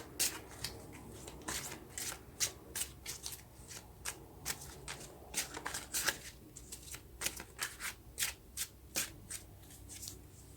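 Tarot cards are shuffled and drawn by hand, a close, quiet run of crisp riffling flicks and snaps coming in uneven bursts, with no talking.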